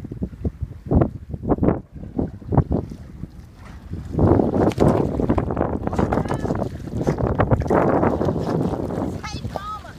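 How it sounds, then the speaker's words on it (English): Wind blows outdoors by the water, with a blustery rumble and gusting buffeting the microphone. It builds stronger in the second half beneath people talking and calling out nearby. "Is the wind about to tote you away?"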